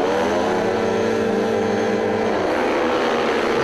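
Speedway motorcycles at the start of a 2007 Russian semifinal race in Oktyabrsky, one machine faltering off the line; a loud, steady multi-engine roar with harmonic whine, continuous throughout and unchanging in intensity.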